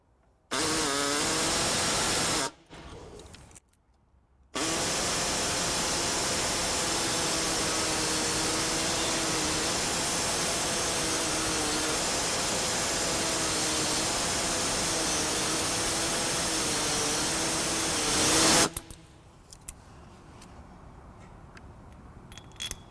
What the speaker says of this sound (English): Today I'm going to be using an air saw